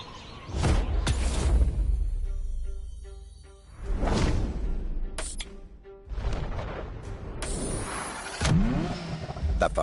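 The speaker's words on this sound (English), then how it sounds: "The Ferrari F40. Enzo Ferrari's ultimate vision" A Ferrari F40 engine revs and surges in the racing game The Crew Motorfest, with loud swelling vroom passes and whooshes that rise and fall several times.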